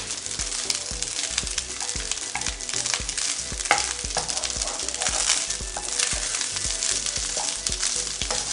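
Egg ginger fried rice sizzles loudly in ghee in a pan, a steady close frying hiss broken by repeated scraping stir strokes, with no voices.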